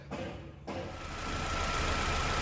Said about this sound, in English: I have the engine up and running